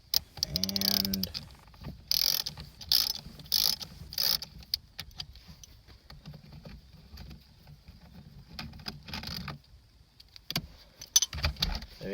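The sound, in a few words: ratchet wrench removing car airbag bolt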